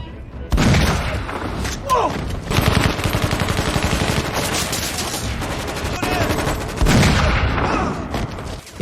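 Film shootout with dense, loud bursts of gunfire and rapid automatic fire, punctuated by heavy booms and thuds and sustained for several seconds.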